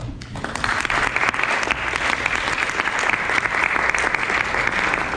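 A crowd at a piano teaching conference presentation breaks into steady, dense applause that stays loud and even throughout, with many hands clapping at once and no voices standing out.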